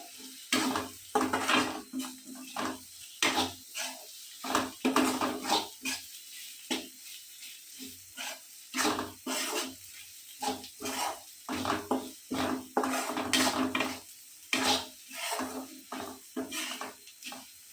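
Chili powder is stirred into a pickle mix in a pan, with repeated scraping and clinking strokes of a spoon against the pan in an uneven rhythm, close and moderately loud.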